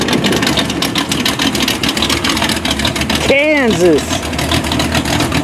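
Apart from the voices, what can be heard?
vehicle engine idling as it pulls up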